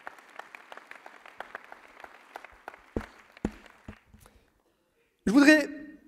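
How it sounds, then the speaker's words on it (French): Scattered, thin applause from an audience at a mayor's New Year address in Voiron tapers into sparse claps and then silence, followed by a short loud voice burst at the end. "merci de les applaudir également"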